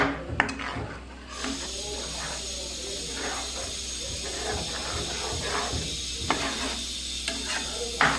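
Spoon stirring paneer gravy with chili powder in a cooking pan, a soft continuous scraping and gentle sizzle with occasional light knocks, close and steady.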